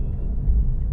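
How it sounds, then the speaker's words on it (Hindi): Road traffic in Karachi's posh Gulshan area, a steady close low rumble of engines and passing vehicles without any speech. "ट्रैफिक यहाँ पे भी"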